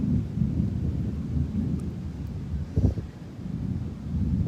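Low rumbling thunder from an approaching storm at the beach rolls on steadily alongside rain and wind buffeting the microphone, with a slightly stronger crack-like swell midway.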